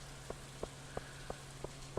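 Rain in the farming video game Stardew Valley, a steady soft hiss of falling drops with a faint low hum beneath and small regular ticks about every third of a second, quiet and without any voices.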